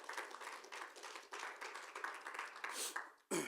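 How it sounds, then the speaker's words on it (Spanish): Church congregation clapping in a broadband wash of steady applause that carries on for several seconds, fairly loud and close, then breaks off before a short final burst. "denle un aplauso al Señor."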